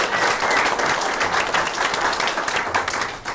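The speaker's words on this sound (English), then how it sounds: "And another round of applause for these candidates" A crowd at a Republican congressional candidates' forum applauds steadily, a dense, continuous wash of clapping with no talk.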